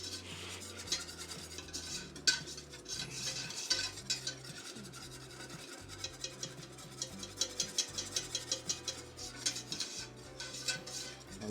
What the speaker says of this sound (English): So we're putting a pan in this.